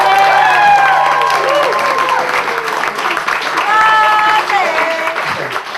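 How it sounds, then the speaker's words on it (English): Wedding guests applauding during a reception speech, a steady wash of clapping mixed with cheers and overlapping voices, fairly loud and close throughout. "I think we should all now a round of applause for how beautiful Paddy looks"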